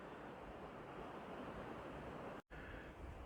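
Ocean waves at La Isla beach in Colunga, Asturias, a steady broadband roar of surf and wash from a distance, continuous and even, with one brief dropout near the end.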